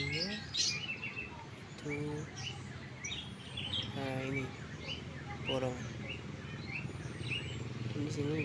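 Many caged birds, including lovebirds, chirp and tweet at a busy bird market in Malang, a steady chorus of bright calls, with people talking nearby underneath.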